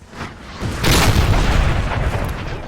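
Artillery cannons firing in a Napoleon: Total War multiplayer battle, a duel between opposing guns: a deep booming blast swells after a moment and rolls on as a sustained low rumble of further shots.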